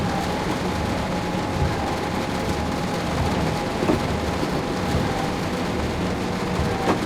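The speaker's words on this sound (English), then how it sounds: "there's thunder" Thunder rumbles through steady heavy rain in the Train Sim World 5 game on a Brighton route, a dense continuous roar with a few brief louder swells.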